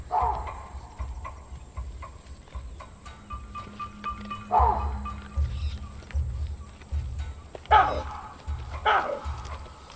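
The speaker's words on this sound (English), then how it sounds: "An alarm bark signals the male baboons to move in on the cheetah's position." Chakma baboons give sharp, barking alarm calls, several loud abrupt barks spaced irregularly over a low rumbling background, some near and some farther off.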